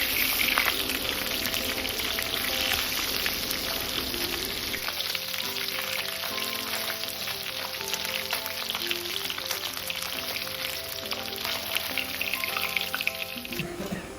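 Fish sizzling steadily in hot oil in a home kitchen, a dense crackling hiss that continues unbroken, with a tonal melody layered over it from about five seconds on.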